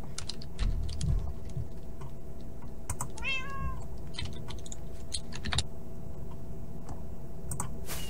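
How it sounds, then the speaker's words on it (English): A cat gives a single clear, rising-and-falling meow, close and moderately loud, over a steady background of rapid computer keyboard typing and clicking. "Did you hear that meow"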